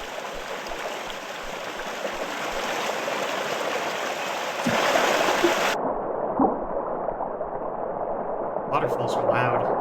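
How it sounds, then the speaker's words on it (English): A loud waterfall roars in an underwater lake video game, a dense, constant rush of water that turns suddenly muffled partway through, with small bubbling sounds on top. "Waterfalls are loud."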